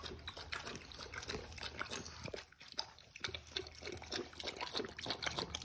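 A dog laps water from its bowl in a rapid, steady rhythm of wet slurps and splashes, close and fairly quiet, with a brief pause midway before the lapping resumes.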